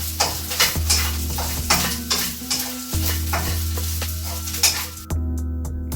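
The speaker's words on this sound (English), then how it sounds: "Need to stir it so that it won't stick to the bottom of the pan." Okra, lady's finger, sizzles in a pan and is stirred repeatedly with a spatula, giving rhythmic scraping strokes over a steady frying hiss and a low background hum, close up.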